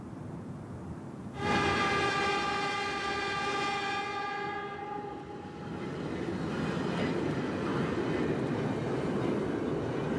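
A Japanese bullet train sounds a long, steady horn blast that fades over several seconds, followed by a continuous rushing rumble of the train in motion.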